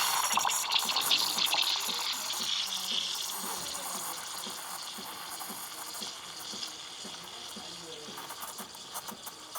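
A Breville Barista Express Impress steam wand, its tip at the surface of the milk, hisses with a bright airy roar that gradually settles into a smoother, lower rush, with faint gurgling, and no talking.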